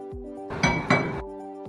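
A lid set onto a cooking pot of gendi snail curry with gondhoraj lime juice gives two quick bright clinks close together, each with a short metallic ring that fades into quiet.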